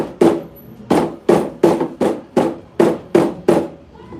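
A hammer beats the edges of a leather insole for a handmade leather slide, with nine sharp, evenly spaced strikes landing close and loud, each one dying away quickly before the next.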